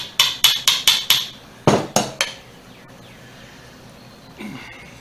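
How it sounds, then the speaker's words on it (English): Metallic tapping from a small aluminum hammer on a 1976 Ford LTD 351M engine during head work: a quick run of five sharp strikes, a pause, then three heavier blows, close and loud, followed by quiet shuffling. "This is a little aluminum hammer here."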